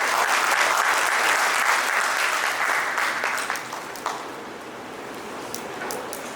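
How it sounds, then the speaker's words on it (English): A large audience claps steadily and loudly, a dense sustained applause that eases slightly toward the end. "Audience, help me in inviting Dr. Vikram Singh, sir, with a huge round of applause."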